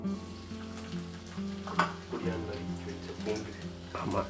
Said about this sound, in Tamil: பூண்டு போடுறோம்.